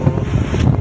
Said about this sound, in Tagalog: Ngayon pa lang lumalakasan ay ano lang ako, may ano ng hangin, napapadpad ako ng hangin.